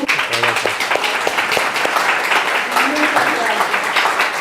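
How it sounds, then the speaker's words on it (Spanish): An audience at a talk in a lecture series in Uruguay breaks into loud applause that fills the room, with a voice speaking over the clapping near the start. "les pido un enorme aplauso"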